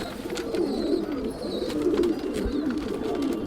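Madrasi pigeons coo close by, soft repeated throaty murmurs overlapping in a steady low rhythm, with no talking.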